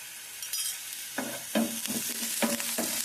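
Hot oil spluttering while bitter gourd fries for kakarakaya pulusu, a soft sizzle with a series of sharp pops and spatters at uneven intervals, close by.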